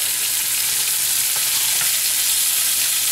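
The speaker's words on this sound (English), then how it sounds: "I'm going to take these pork chops, throw them in this pan here" Bone-in pork chops sear in hot butter in a pan, giving a loud, continuous, dense sizzle with a faint crackle, heard close up and without any talking.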